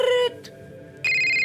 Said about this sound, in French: C'est l'ordinateur qui sonne.